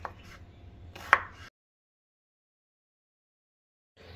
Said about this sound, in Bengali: এবার শসাটাকে অর্ধেক করে নিচ্ছি। এবার যতটা সম্ভব সরু সরু করে কেটে নেব।